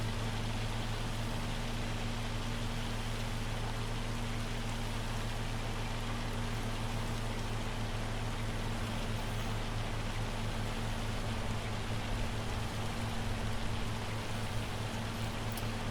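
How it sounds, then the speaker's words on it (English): Heavy hail falling steadily in Farming Simulator 25 during field work, a constant dense hiss of hailstones with a low engine-like drone underneath, even and unbroken throughout. "Still heavy hail."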